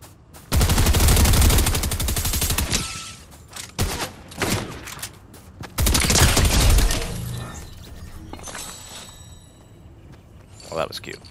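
Gunfire in the Fortnite battle royale game: loud bursts of rapid automatic fire, then sharp isolated shots and another heavy burst, with quieter stretches and talk between them.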